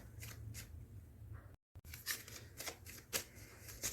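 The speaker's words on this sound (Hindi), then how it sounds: "चलिए यहाँ से कुछ कार्ड्स लेते हैं।" Close, soft riffling bursts of a tarot deck being shuffled, repeated several times in a quiet room, broken by a brief gap of silence partway through.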